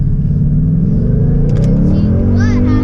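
A 2019 Ford Mustang GT PP2 drives down a back road, its engine giving a loud, close, continuous low rumble that swells as it revs, with brief higher noises near the end.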